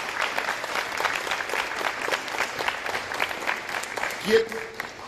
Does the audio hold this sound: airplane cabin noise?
no